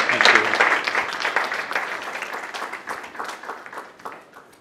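Lecture-hall audience applause welcomes a guest speaker, starting strong with a few close claps and then thinning and tapering off over a few seconds.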